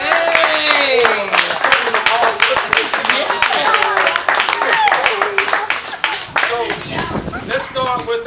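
An audience claps steadily at a 2016 Holy Name track awards gathering, dense close handclaps carrying on for several seconds, with excited voices and chatter mixed in over the applause.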